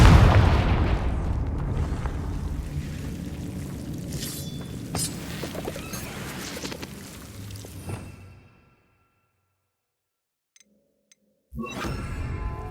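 Confringo explosion spell cast in Hogwarts Legacy: a loud, heavy boom that rolls and fades over several seconds into near silence, followed by brief faint ticks and a return of game ambience.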